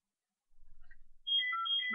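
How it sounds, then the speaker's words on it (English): Mobile phone ringtone starting up on a craft worktable: a soft low buzzing pulse first, then a bright electronic melody kicking in clearly and close, with no voices. "my phone ringing."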